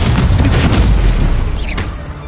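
An Incendio fire spell blasts in the Hogwarts Legacy video game, a loud, close, booming burst that rumbles and fades over a couple of seconds.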